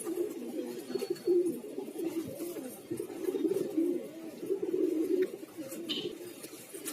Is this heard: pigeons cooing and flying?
yes